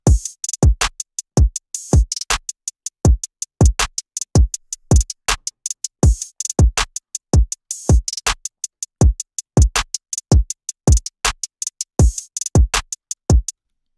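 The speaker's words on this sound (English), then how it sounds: "altogether, the drums sound like this." Hip-hop drum pattern built from a punchy kick, sharp claps and open hi-hats with no 808 bass, looping in a steady, dry rhythm of crisp transients for the full stretch with no other instruments.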